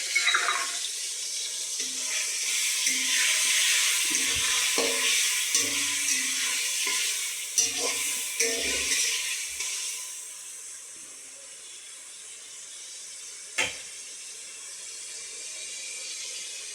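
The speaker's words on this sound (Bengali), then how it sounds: "এবারে আমার এই মশলাটা ভাজা হবে।" Ginger-garlic paste masala frying in a pan for egg chilli gives a steady, close hiss and sizzle, broken by a few soft knocks of stirring and fading slightly toward the end.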